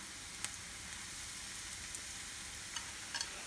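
Onion and carrot sautéing in a pan, a faint, steady frying sizzle with a few small crackles and pops scattered across the quiet background.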